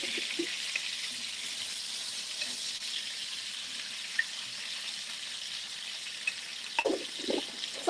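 Vegetarian stock goes into a pan of Korean topokki, giving a steady, moderately quiet sizzle and hiss throughout, with a few soft knocks and clinks near the end.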